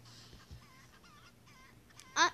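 Chickens in a Roblox video game cluck in short, repeated, honking calls at a moderate level, ending with one louder, sharper squawk near the end.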